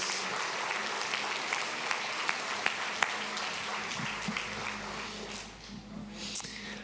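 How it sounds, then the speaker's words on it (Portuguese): A church congregation applauds during a worship service, a sustained spread of clapping with a few sharper individual claps standing out, gradually tapering off while faint voices sound in the background. "Quem crê nisso pode aplaudir o Senhor."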